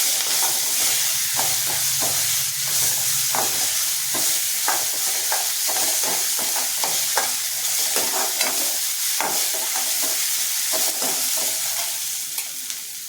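Steady sizzling of ginger garlic paste frying in a hot pan, with repeated stirring scrapes and clicks from a spoon, continuous and fairly loud throughout.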